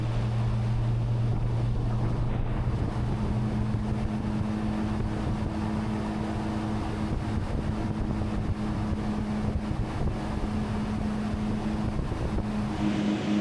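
A Yamaha 242X 24-foot jet boat runs on flat, calm water, giving a steady low engine drone with constant wind rush and water noise, close and loud throughout with no talk.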